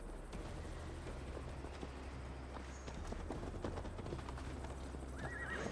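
In the Viking-era game Assassin's Creed Valhalla, a horse is ridden at a steady pace, its rhythmic hoof clip-clops continuous over a low rumbling bed, with a whinny near the end.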